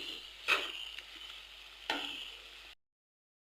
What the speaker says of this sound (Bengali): চিনি দেওয়া হয়েছে, তারপর কিছুক্ষণ নেড়ে নেব।